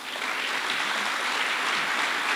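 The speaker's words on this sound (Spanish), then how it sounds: "Recibámoslos con un fuerte aplauso, por favor." An audience at a forum on the Panama Canal expansion claps to welcome the speakers, a steady, even wash of applause with no breaks, moderately loud and without any voices over it.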